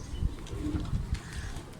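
A Kamagar pigeon from a champion bloodline coos in low repeated throaty pulses, close and moderately loud, with a few light chirps mixed in and no voices.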